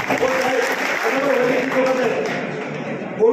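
Applause from a crowd at a municipal workers' union camp in Talegaon, honouring a union leader; steady dense clapping fills the whole stretch, with voices and a few chuckles mixed in.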